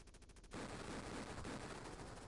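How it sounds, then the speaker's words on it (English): Rapid automatic gunfire from the Sega Genesis game Jungle Strike rattles in quick bursts, then blurs into a dense, continuous roar of shooting, heard faintly at low volume. "Probably the one with the gunfire outside it."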